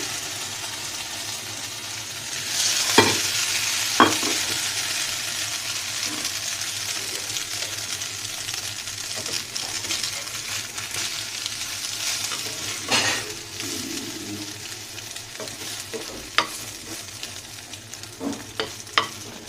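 Egg-dipped bread slices fry in a small amount of oil as a quiet, steady sizzle runs throughout, broken by a few sharp clinks and scrapes of a utensil near the pan.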